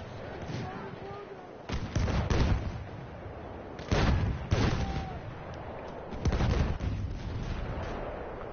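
Mortar fire in the Frontlines video game: repeated heavy thumping blasts arrive in spaced bursts, a few seconds apart, over a low battlefield rumble.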